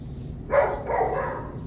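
A dog gives a short bark or yip close by, followed by a softer second bark, over a quiet low background hum.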